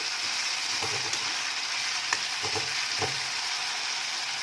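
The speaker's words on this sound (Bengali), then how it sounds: "মশলাটা ভালোভাবে কষে নিচ্ছে।" Ground spices with coriander powder frying over medium flame for Bengali bhoger khichuri, a constant soft sizzle with a few light stirring scrapes, close and alone.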